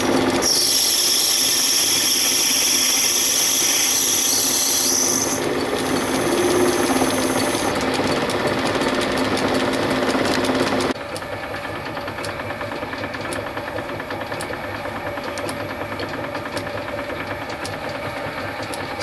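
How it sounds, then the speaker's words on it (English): Metal lathe turning the end of a brass safety valve body down to 8mm for a boiler thread, a loud steady machining whine and rumble with a high cutting squeal early on, then dropping to a quieter even drone. "chuck it back in here and machine this end down to 8mm to match the thread for the boiler or whatever you used, and thread that"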